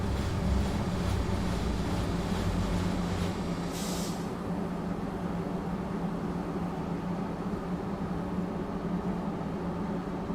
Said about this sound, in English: Now that signal's gone green, let's just stop and watch the other train go.